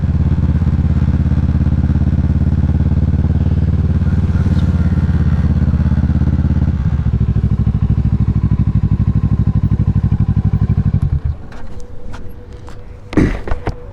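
A motorcycle engine runs loud and close, a steady low rumble for about eleven seconds before it cuts off, followed by scattered clatter and a sharp thump.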